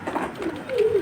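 Uncommon home-bred Gorra pigeon held in the hand, giving a short throaty coo up close, rising into a clear drawn-out note at the end.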